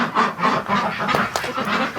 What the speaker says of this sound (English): of course, the Muscovies out here.